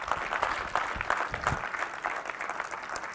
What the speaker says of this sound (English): can we get some applause going?